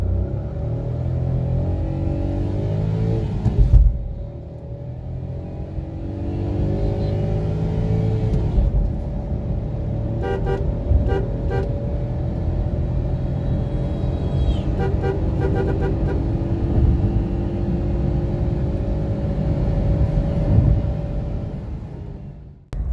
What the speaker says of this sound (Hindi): अब मैं इसका 0 to 100 चेक करता हूँ कि ये कितने सेकंड्स में 0 से लेके 100 करती है।